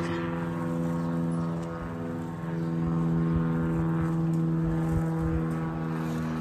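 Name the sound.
airplane droning overhead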